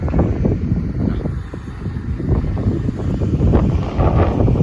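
Strong wind buffeting a microphone outdoors on farmland, a continuous low rumbling roar with gusty swells, loud and close, with no voices.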